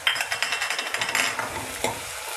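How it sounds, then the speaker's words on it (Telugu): Green chili paste and onions frying in a pan for a buttermilk kadhi, the sizzle running steadily while a spoon stirs with quick rhythmic scrapes and taps against the pan, close and fairly loud, with no talking. "దీంట్లో బాగా పచ్చి వాసన పోయేంత వరకు వేయించుకోవాలి."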